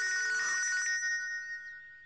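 A mobile phone plays a bright electronic ringtone for an incoming call, fairly loud and steady before trailing off into a fading tail, with no talking over it, in a Tamil drama scene.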